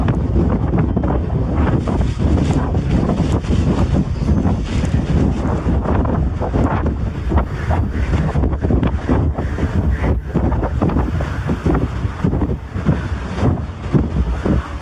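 Strong wind gusts at night batter a tent and microphone at a mountain campsite, a loud, constant roar with rapid buffeting pulses and no talk.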